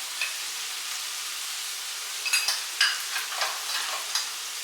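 Garlic, cumin and turmeric fry in a pan over a low flame, a steady close sizzle with a few brief louder crackles and stirring clicks scattered through it.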